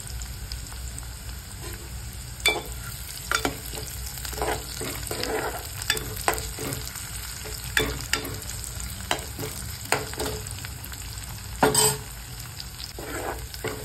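Crushed ginger-garlic paste sautéing in a pan for chole bhaji, a steady sizzle punctuated by sharp, irregular scraping and tapping strokes from the stirring spoon, close and clear, with no talking.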